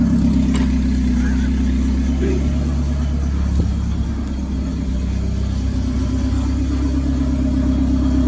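A turbocharged seventh-gen Honda Civic fitted with a DIY RSX-based all-wheel-drive kit runs loud and steady as all four wheels spin, producing a dense low engine rumble with a constant high whine and no clear pauses.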